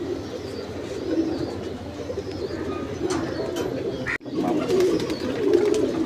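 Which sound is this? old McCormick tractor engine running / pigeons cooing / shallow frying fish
pigeons cooing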